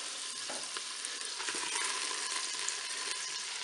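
White pudding sausages sizzle steadily in butter inside a Cookeo multicooker pot, a continuous bright crackle of frying with small pops throughout, no voices.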